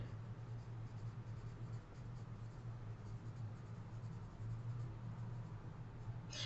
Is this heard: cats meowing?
no